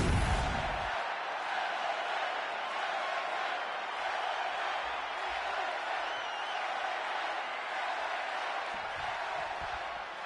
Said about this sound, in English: Well, the roar of the crowd tells you all you need to know.